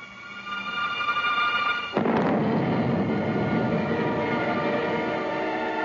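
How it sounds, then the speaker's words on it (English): A large artillery cannon, the Atomic Annie, fires once with a sudden heavy boom that rolls into a long rumbling echo over an already loud, steady background noise. "The gun crew moves back to take positions in slip trenches during firing."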